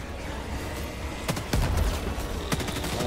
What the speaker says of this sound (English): So I'm using their laser rifles